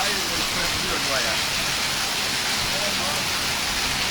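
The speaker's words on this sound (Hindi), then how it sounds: "तेज़ हवा के साथ मुसल्लधार बरसात जो है वो इस टाइम चालू है।" Heavy rain driven by strong wind pours down in the main bazaar of Jhuddo city, a dense, loud, unbroken hiss of water that carries on steadily throughout.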